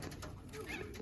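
Young racing pigeons coo softly in a loft, a low murmuring coo close by with faint bird rustling behind.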